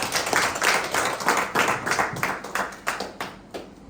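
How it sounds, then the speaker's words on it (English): A live audience at a goal-setting seminar claws out loud, rhythmic clapping. Close, sharp hand claps come in a steady pulse of roughly three per second and thin out toward the end. "Clap for yourselves."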